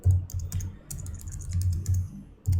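Code being typed on a computer keyboard, rapid uneven bursts of close, crisp key clicks with brief pauses between runs.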